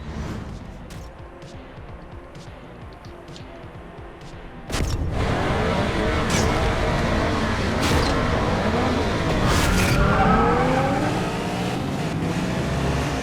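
Arcade racing game Asphalt 8: Airborne plays with engines roaring and revving, cars whooshing past and occasional crash impacts, loud and continuous after a quieter opening stretch of menu sounds.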